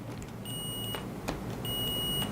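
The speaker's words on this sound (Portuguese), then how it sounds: "meu faz um bip, quer ver?" A multimeter's continuity test sounds two clear, high-pitched electronic beeps, each lasting about half a second with a pause between, over faint room background.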